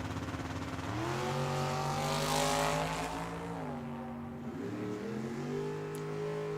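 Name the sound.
1956 Ford Custom Line drag car with 470 big block Chevy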